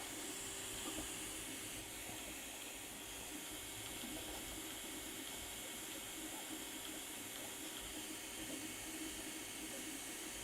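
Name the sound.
AnkerMake M5C high-speed 3D printer running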